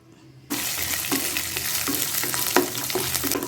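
Roasted peanuts and a handful of curry leaves drop into hot oil already crackling with mustard seeds and cumin, bursting into a loud, continuous sizzle with sharp pops and spatters, close up and without talk.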